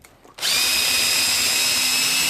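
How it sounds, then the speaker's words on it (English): Power drill boring a hole for a handlebar controller mount on a GY6 scooter, a steady high-pitched whine that starts abruptly and runs loud and continuous, close by. "Let's try to stretch this drill bit, sort of more incline here this way."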